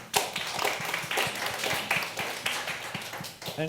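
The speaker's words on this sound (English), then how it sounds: "Round of applause for Sergio." A small audience at a panel talk claps for a few seconds after a speaker, a light patter of scattered hand claps at moderate distance.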